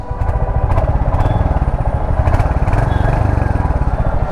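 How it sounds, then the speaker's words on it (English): Royal Enfield Hunter 350 motorcycle exhaust idling close up, a loud steady low thump with fast even pulses running without a break. "the exhaust system on the Hunter 350 is really awesome"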